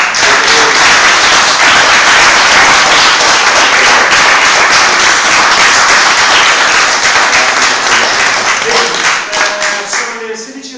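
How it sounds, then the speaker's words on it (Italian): Loud, dense applause from an audience for performing students at a Shaolin presentation event in Milan, sustained clapping that stays full for most of the stretch before thinning out at the end. "che sarà un altro applauso per questi bravissimi ragazzi"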